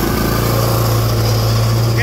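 The small engine of a square bale chopper runs loud and steady at close range with an even, rapid putter throughout, with no voices heard.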